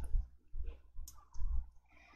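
A few soft, close mouse clicks tap out in an irregular rhythm as someone clicks the Subtotal button in Excel, quiet and without talk.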